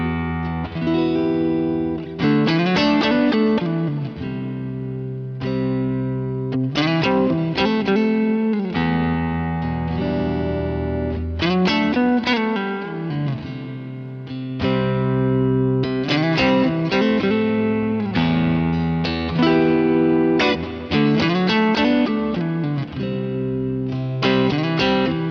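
Clean electric guitar through a Boss GX-100 ambient reverb patch with clean drive, ringing chords and arpeggiated notes with long reverb tails, played steadily and loud with no talking.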